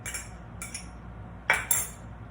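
Utensil stirring tortilla filling of leek, onion and mozzarella cheese in a bowl, giving a few faint, quick scrapes and clinks spaced apart in a quiet kitchen.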